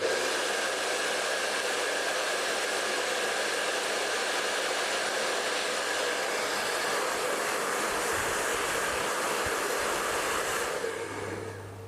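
A blow dryer blasts a steady, close whoosh while hair is rolled around a brush to set curls, running unbroken for about eleven seconds before cutting off near the end.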